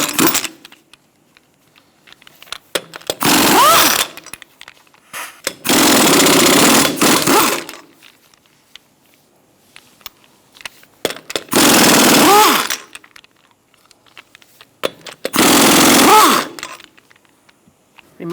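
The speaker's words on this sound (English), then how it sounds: "Using a 21mm socket, we're going to remove our lug nuts." Impact wrench with a 21mm socket spinning lug nuts off a 2002-2006 Toyota Camry front wheel: four loud, rattling bursts of one to two seconds each, separated by quiet pauses.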